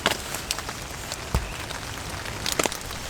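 Rain falling outdoors during a wet early March day, a steady close patter on surfaces with occasional louder drops striking nearby.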